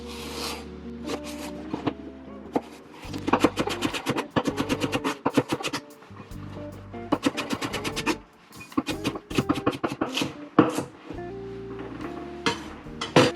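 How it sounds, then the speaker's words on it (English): Knife chopping carrots, celery and onion on a board for lentil soup, a run of quick close taps coming in bursts with short pauses, under a quiet background of music. "Just chop your carrots, your celery, your onion."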